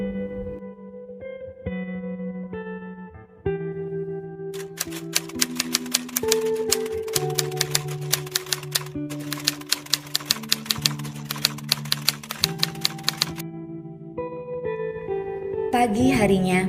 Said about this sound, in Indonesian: Teks proklamasi Indonesia diketik oleh Sayuti Malik.